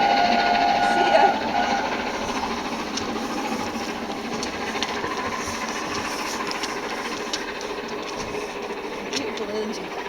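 The Tornado steam locomotive hauling its train past Perth, a steady rolling rumble with rhythmic clickety-clack of carriage wheels that carries on, close and fairly loud, throughout.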